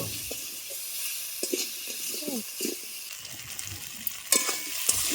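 Taro pieces fry in a pan with turmeric and red chilli powder, giving a soft, steady sizzle under quiet stirring scrapes and a few light spoon clinks.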